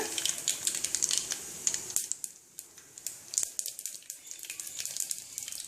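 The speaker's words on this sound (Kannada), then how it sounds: "ಎಣ್ಣೆ ಕಾದಿದೆ, ಸಾಸಿವೆ ಹಾಕೋಣ." Mustard seeds dropped into hot oil for tempering a green gram gravy pop and crackle in quick, irregular bursts, close and fairly faint, with no talking over them.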